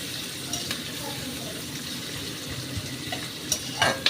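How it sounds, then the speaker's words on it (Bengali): Chopped onions fry in oil on high heat, a soft continuous sizzle with a few scattered clicks and scrapes of stirring near the end. "এইবারে আমি পেঁয়াজটা ভাজতে আরম্ভ করেছি"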